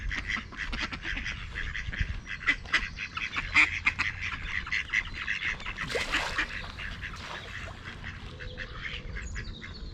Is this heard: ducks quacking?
yes